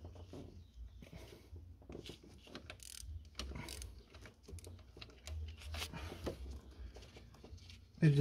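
Ratchet or socket wrench clicking and metal parts turning while undoing a 8 mm bolt on the EGR valve of a Ford Focus 2 1.6 TDCi engine, a close series of irregular mechanical clicks and rattles with no talk.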